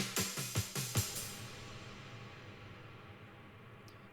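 A few punchy resampled drum-break hits in a quick irregular pattern, then a fading reverberant tail that dies away into quiet near the end.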